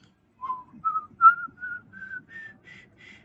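Someone whistles a rising do-re-mi scale, one clear note after another, each a little higher than the one before, close by with no other sound.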